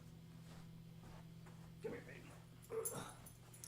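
A small dog whimpers and yips, two short high bursts close by, while a person speaks softly to it over a steady low hum.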